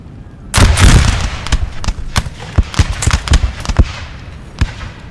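Musket volleys in a Napoleonic war battle game: a dense burst of overlapping shots, then repeated sharp individual cracks at irregular intervals, loud and close.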